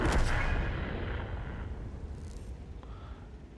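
An artillery shell slams into a heavy tank in World of Tanks, a loud booming blast at the start whose rumbling tail fades over several seconds, with no speech.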